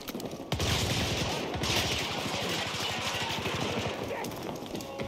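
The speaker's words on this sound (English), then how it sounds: "Oh, I just got a double kill shooting through the smoke." Rapid automatic fire from an RPK-74M light machine gun in Battlefield 2042, a sustained fast stream of close, loud shots in one long burst with brief gaps, under a faint voice.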